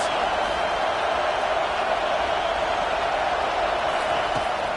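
A stadium crowd at a college football game between TCU and Ohio State, a steady, dense roar of cheering that holds loud and unbroken throughout.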